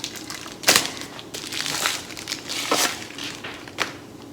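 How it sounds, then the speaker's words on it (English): Packaging for a fuel rail part on a 1951 Ford pickup is ripped open by hand, giving close crinkling and tearing bursts with a sharp rip near the start and scattered crackles after, without speech. "let me just rip this open"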